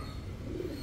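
Pigeon cooing close by, a single short low throaty coo over a steady background hum.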